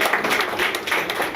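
An award ceremony audience in Dubai claps steadily, a dense, even patter of applause filling the short moment with no break.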